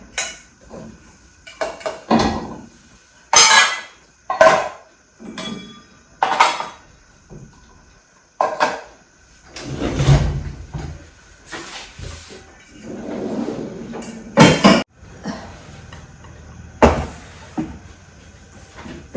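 Dishes, pots and plates being unloaded from a dishwasher in a home kitchen, producing intermittent clattering and clinking bursts with brief quiet gaps in between, close by and with no talking.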